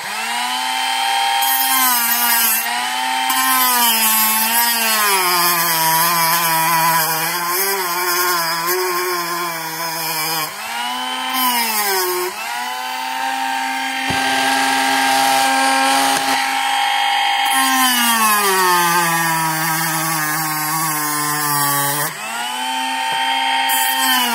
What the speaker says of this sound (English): This big one is the exact size you need to Dremel down that center section to make that U shape in it